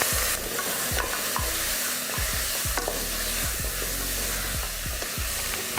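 Food sautés lightly in a frying pan with turmeric, goat legs and ground pepper and cumin, a steady hiss while a utensil scrapes and taps rhythmically against the pan as it stirs.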